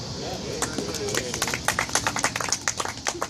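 Crowd applause at a campaign-style campfire tour stop in Des Moines, scattered claps building into a brisk round, with speech running underneath.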